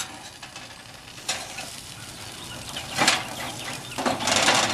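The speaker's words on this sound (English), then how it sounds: "Steaks on the grill." Steaks sizzle on an outdoor grill on a hot day, a steady close hiss broken by several louder surges of crackling fat, with no talking.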